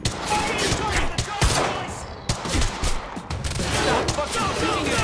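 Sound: gunfire in the video game Quantum Break

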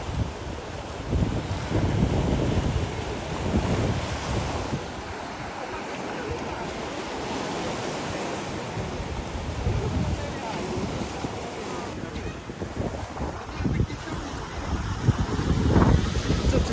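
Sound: stormy sea waves and wind at the Odesa seaside

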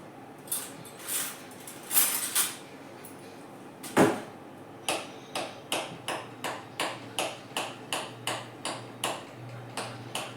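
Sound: spoon stirring butter into ghee in a pan

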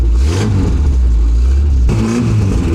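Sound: Peugeot 206 engine started on gas, revving

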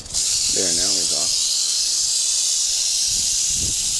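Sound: angry rattlesnake hissing

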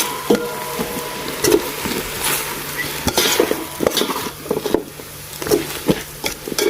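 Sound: dry-roasting curry paste with pickled bamboo shoots in a pan

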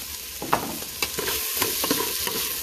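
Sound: sautéing garlic and chili in a pan

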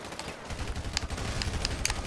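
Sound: gunshot from video game GTA 5

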